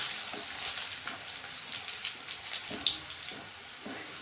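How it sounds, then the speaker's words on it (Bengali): Boiled, smashed chickpeas dropped a little at a time into hot oil for a crispy snack, a faint crackling sizzle with small irregular pops and clinks. "এখন আমি একটু একটু দিয়ে ভেজে নেব।"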